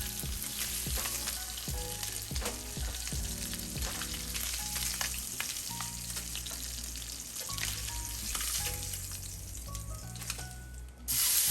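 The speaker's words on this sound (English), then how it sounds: "Alright, so now I'm going in with my shrimp." Shrimp sizzle steadily in a hot frying pan just used for branzino, a loud continuous crackle and hiss with scattered pops that swells sharply in the final second.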